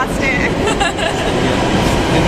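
A metro train pulls in with a steady, loud rumble of rail and car noise that fills the whole stretch, with faint voices in the background.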